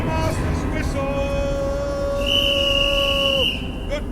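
A long, steady whistle tone, a ship master's whistle in a live Shakespeare reading, sounds for a couple of seconds, then shifts to a higher pitch, over a murky background of voices and noise.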